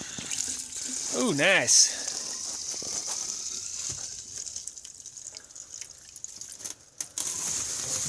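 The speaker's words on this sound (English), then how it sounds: "Don't you love splashing gas all over the place?" Gasoline splashes and drips onto a Polaris Indy 600 XLT snowmobile engine, a soft, close trickle with small drips, while a voice briefly comments.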